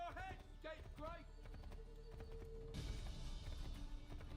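A horse's hooves clip-clop in rhythmic beats in Assassin's Creed III, mixed with vocal sounds early on and a busier wash of game noise later.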